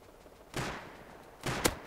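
Two gunshots in the video game Rust, a sharp crack and then a second one a second later, fairly close with faint background between.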